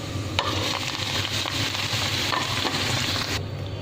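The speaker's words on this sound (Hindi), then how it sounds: "पालक को थोड़ा सा पका लेंगे ऑयल के अंदर" Spinach fried in hot oil with golden-browned garlic for an aloo palak dish, sizzling steadily while a utensil stirs and scrapes the pan in several close strokes, the frying noise ending abruptly near the close.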